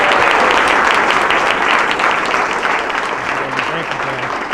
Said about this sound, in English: let's give a rousing applause and hands for George for the next mayor